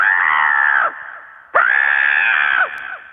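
A person on a radio call-in crow-imitation contest voices two long, loud, strained caws, one after the other, with a short pause between them.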